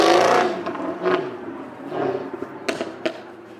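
A Jaguar Project 7 driving past in a parade at Blenheim Palace, a loud whooshing engine pass up close that fades to quieter vehicle noise with a few sharp bursts.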